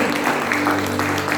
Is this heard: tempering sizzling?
no